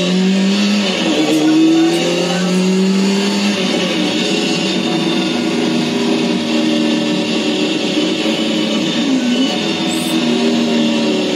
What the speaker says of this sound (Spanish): El sonido de las motos es grave porque es grueso.